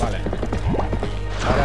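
Horse hooves clip-clopping in the video game Zelda Twilight Princess HD, a quick run of hoof thuds over a low steady game hum, with voice-like tones mixed in.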